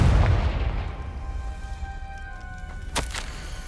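A Confringo explosive spell cast in Hogwarts Legacy: a deep boom at the start that rumbles and fades, then a brief sharp crack near the end, loud and close with no talking.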